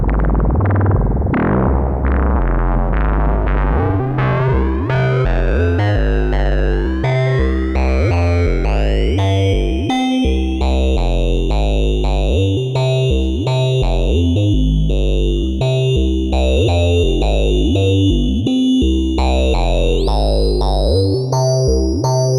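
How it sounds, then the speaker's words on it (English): A buzzy FM synthesizer tone plays a run of notes whose timbre sweeps and shifts like sung vowels, loud and continuous with a gritty, talking quality. "that kind of sounds like a formant, like a vowel, like a talking synth"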